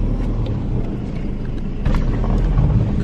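A car rumbles close by with a steady low engine drone and some wind buffeting while it is turned around to face forward, and no one speaks.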